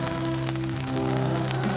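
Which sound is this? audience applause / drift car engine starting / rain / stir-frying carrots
rain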